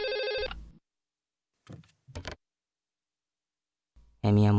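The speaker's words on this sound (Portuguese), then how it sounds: "lá está o telefone tocando novamente." A telephone rings in short bursts, cutting off, then returning loud near the end, with a few brief clattering sounds between the rings and no talking.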